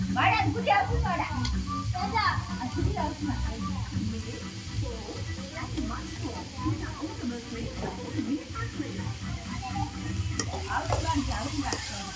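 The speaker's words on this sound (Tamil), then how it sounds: "கறியை போட்டாங்க. ஒரு லெக் பீஸ் இருக்குது. கிண்டுன்னு கிண்டுறாங்க." Chicken pieces, including a leg piece, fry in a pan while being stirred, a steady sizzle with scraping strokes running under near, continuous chatter from several people, including a child.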